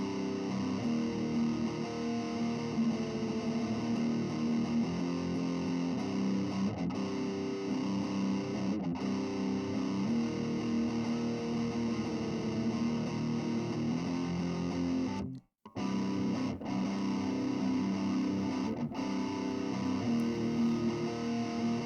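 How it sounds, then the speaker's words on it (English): Electric guitar played through a Rowin Holy War distortion pedal beside a Rowin looper, a steady, thick distorted riff running throughout with a brief dropout near the end, no talking. "and this will give us distortion"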